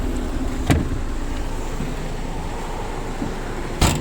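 A Toyota Vios with manual gearbox idles smoothly, a steady low engine hum close by, broken by two short sharp clicks about three seconds apart; no talking.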